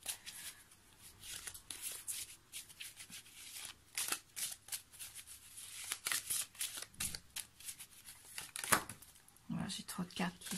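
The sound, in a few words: tarot cards being shuffled and falling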